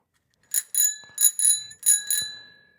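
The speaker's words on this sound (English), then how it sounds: "Brought with me, Gino, the bike bell that is a little swag item for our new rail trail project downtown" A small bicycle bell, a promotional giveaway for a downtown rail trail project, rings in three quick double dings, bright and close, each pair ringing out before the next with nothing else heard.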